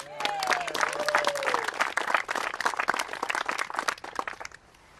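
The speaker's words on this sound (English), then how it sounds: "So let's give a round of applause." Applause from a small gathering at a housewarming for a retiree whose home was rebuilt after the Joplin tornado, dense and steady claps for about four seconds before fading, with a brief whistle-like tone early on.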